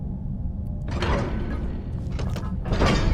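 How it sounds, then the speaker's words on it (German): A door opening in the Skyrim video game, heard as a sustained mechanical scrape and rumble over a constant low background, loud and close, with no talking. "Lasst mich die Tür öffnen."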